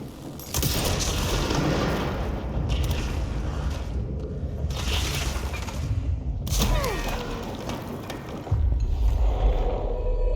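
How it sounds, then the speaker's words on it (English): Explosions and heavy combat effects from the video game Control rumble and boom in long, dense bursts, with crashing debris and deep low-end thuds filling most of the stretch. "my own explosions can hurt me"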